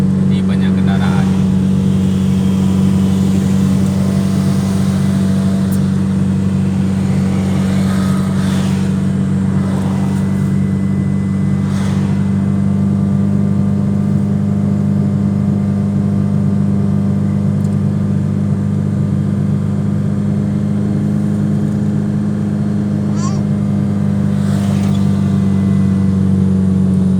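Busy road traffic in Saree, Aceh Besar, heard as a steady loud engine drone from a moving vehicle with passing vehicles and occasional faint knocks, continuous throughout with no clear talk.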